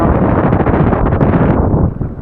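Strong wind buffets the microphone in a loud, continuous roar with gusty rumbling, easing slightly near the end.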